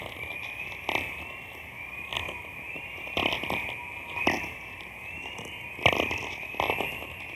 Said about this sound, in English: Let's take a listen to the Northern Lights.